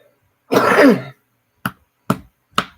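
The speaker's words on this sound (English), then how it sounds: "Sorry, anxiety cough left over from having to go out and deal with public." One harsh throat-clearing cough followed by three short, sharp coughs, close and loud with silence between them.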